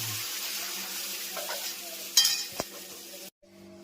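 Spices sizzling in hot oil while tempering dal, a close steady hiss with a few sharp utensil clinks and a stirring scrape, then a brief drop to near silence before the sizzle returns.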